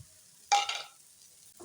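Banana stem stir-fried in a pan, a sudden sizzling burst with stirring scrapes that fades to a quiet hiss, no voices.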